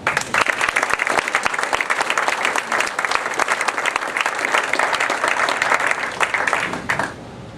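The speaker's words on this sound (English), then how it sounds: "I want a big round of applause for Jim." A crowd at a town brand and website launch event in Manning, Iowa breaks into loud, sustained applause, many hands clapping steadily for several seconds before it tapers off at the end.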